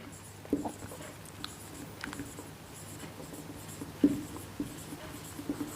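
Chalk or marker writing on a classroom board, with soft scratchy strokes and occasional taps coming through a quiet room, no speech over it.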